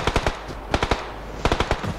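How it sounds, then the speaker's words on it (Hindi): Rapid bursts of automatic gunfire in a battle royale video game, several short volleys of sharp cracks separated by brief pauses, loud and close with no talk over them. "नहीं ये अब फायरिंग करी जा रहा फजूल का"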